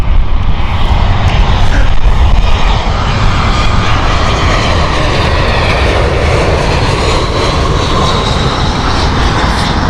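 A jet airliner on the Marseille flight at Heathrow roars loudly and close by, its engine noise dense and sustained across the whole stretch with a slight swell early on. No one speaks.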